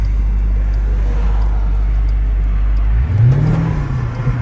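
A car engine idles with a deep, loud rumble, then revs sharply once before settling back to a throaty hum, heard up close.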